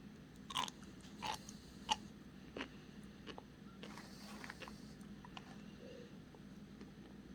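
Close, quiet crunching and biting of sea grapes seaweed, a few distinct crisp bites early on followed by softer chewing, with no talking.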